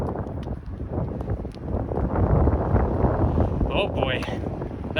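Cold wind gusting steadily on a roadside walk along a Toronto highway, a continuous loud rushing roar buffeting the microphone, with faint traffic underneath.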